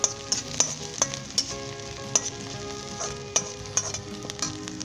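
Onions and cumin frying in a pan for Punjabi karhi pakora, a steady close sizzle with rhythmic scraping stirs and clinks, no voices.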